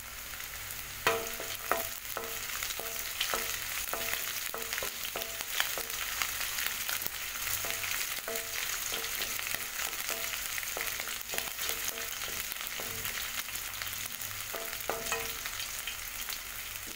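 Green chillies drop into onions already fried soft in a pan for a ladies finger (okra) fry. A steady hiss of frying oil runs throughout, and a few sharper stirring scrapes and clatters rise above it near the start and again toward the end. No voices are heard.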